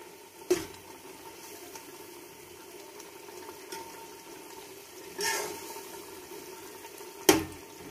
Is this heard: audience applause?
no